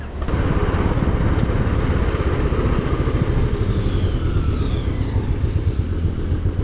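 Steady, close engine drone and wind rush from a motorcycle riding along a road between Manali and Delhi, continuous and fairly loud with no talking.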